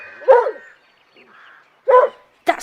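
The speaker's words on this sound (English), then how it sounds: "No, Scamper would have barked." A dog in a dramatized children's audio story barks in three close, sharp bursts, with a faint whine between them. No voices are heard.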